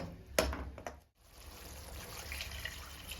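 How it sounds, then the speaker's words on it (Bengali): Water poured into a pan while cooking egg chilli with cornflour in the sauce, a short splashing pour followed by a soft, steady liquid hiss, close and fairly quiet. "এখন জল লাগবে জল দেবো"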